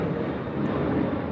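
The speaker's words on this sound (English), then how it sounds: "Sorry, plane." A passing airplane rumbles overhead, a steady broad drone that holds at an even, fairly loud level throughout with no voices over it.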